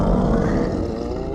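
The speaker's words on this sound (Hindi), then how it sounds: "ये आवाज तो तुम्हारे पेट से।" A cartoon elf's empty stomach growls in a long, loud, low rumbling roar that fills the moment alone, with no voices over it.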